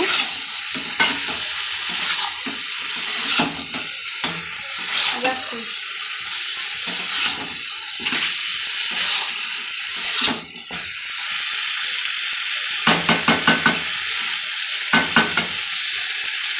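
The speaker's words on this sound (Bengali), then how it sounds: "এই যে চিকেনটা কষাচ্ছিলাম, কষতে কষতে জল বেরিয়ে গেছে" Chicken pieces sizzle in a pan while being stirred and braised, with a loud, continuous frying hiss broken by repeated scraping and clattering strokes of the spatula.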